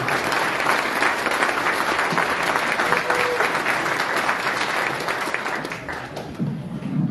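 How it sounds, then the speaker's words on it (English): Sustained audience applause at a chamber of commerce annual banquet at a college, a dense, even wash of many hands clapping that fades slightly near the end. "please give him another round of applause"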